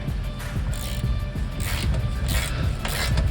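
A hand ratchet with a 17 mm socket works a suspension bolt out of a Honda Accord, clicking in steady repeated bursts of close mechanical ratcheting with no talk.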